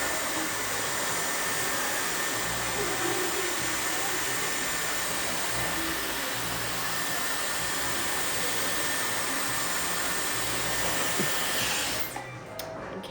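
A hair dryer blows steadily and loudly for a blowout, a continuous close-up whoosh that cuts off abruptly just before the end.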